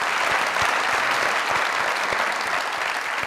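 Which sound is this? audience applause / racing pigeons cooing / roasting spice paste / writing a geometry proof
audience applause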